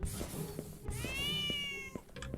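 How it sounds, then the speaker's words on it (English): A cat meows in Howler, a cat-themed FNAF-style horror game: a few short mews followed by one longer, drawn-out tonal meow, fairly close and clear over a low background bed. "Where's the black cat? Where's the there's a black cat."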